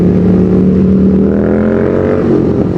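Honda CBR 150 CBU Thailand sport motorcycle with a PWK 28 carburetor revving under throttle, a loud close engine note holding steady then rising and falling through the rev, with no talk.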